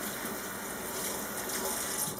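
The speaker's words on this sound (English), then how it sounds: "I'm actually going to wash the rubber gloves so any dye that got on them before is off before you start mucking with your fabric." Tap water runs steadily into a sink while rubber gloves are washed before fabric dyeing, a continuous hiss and splash that stays even and moderately quiet throughout.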